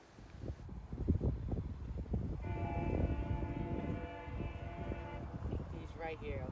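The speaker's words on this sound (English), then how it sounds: "It was led by 601 with a really awesome horn." Horn of GO Transit locomotive 601, leading a southbound Barrie-to-Toronto train, sounds a loud, sustained chord for about three seconds over rumbling rail noise, with voices talking around it.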